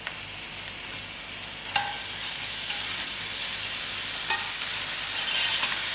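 Green chilies, ginger and garlic fry in a pan for lamb mince kebab chutney, a constant close sizzle with a few sharper spits and stirring scrapes rising out of the steady hiss.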